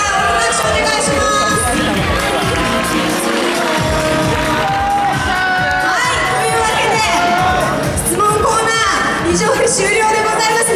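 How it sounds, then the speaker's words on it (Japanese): Fans cheering and clapping at a T-ARA special showcase in Japan, a loud continuous crowd roar with shouts and whoops throughout, dense and close, with voices mixed in. "皆さん、お拍手お願いします。"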